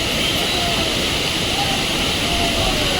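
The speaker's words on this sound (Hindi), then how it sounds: "इसी फाउंटेन से सबसे ज़्यादा पानी आता है ऊपर से अच्छी तेज़ी से।" Water gushes strongly from a mountain fountain at Kedarnath, a loud, steady broadband roar that continues without a break.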